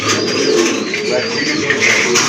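Pigeons, including a male Budapest pigeon, coo softly and continuously close by, a low burbling murmur with faint higher chirps mixed in.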